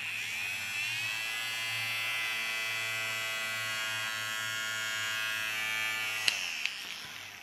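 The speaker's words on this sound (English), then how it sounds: "I showed you my spinning magnets spinning up this aluminium" Spinning magnets from a vehicle speedometer driving an aluminium disc, giving a steady high whirring hum that holds for several seconds before a couple of faint clicks as it winds down.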